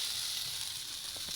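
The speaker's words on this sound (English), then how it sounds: "the sambar has started boiling" Bubbling and sizzling from pumpkin sambar simmering in an open pan without a lid, a steady broadband hiss with occasional soft pops, close up.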